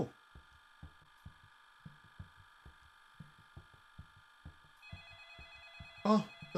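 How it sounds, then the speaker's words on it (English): A telephone rings in the horror game Ultimate Shadow, heard as a brief sharp trill near the end over a steady electronic hum and a slow, thudding heartbeat pulse. "Oh, the phone's ringing."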